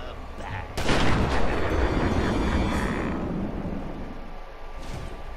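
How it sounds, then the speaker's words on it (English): Joker's gunfire in the video game Batman: Return to Arkham: a sudden heavy blast followed by a loud, rumbling roar of shots that slowly tapers, with another sharp report near the end and a faint voice underneath. "Use the metal stick to dodge Joker's gunfire."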